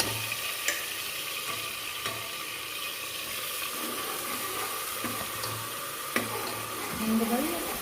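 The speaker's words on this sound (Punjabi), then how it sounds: "ਆਪਾਂ ਹੁਣ ਇਹਦੇ ਚ ਪਾਵਾਂਗੇ ਆਪਣੇ ਗੰਡੇ ਜਿਹੜੇ ਆਪਾਂ ਪੀਸੇ ਸੀ" Ground onions go into cooled oil and fry with a steady, close sizzle, broken by faint utensil clinks and a brief scrape near the end.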